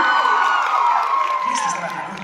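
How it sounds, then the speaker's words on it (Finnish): A convention crowd at a fighting contest shouts and cheers for a contestant, a loud burst of whoops and yells that fades a little toward the end. "huutoja sanssille"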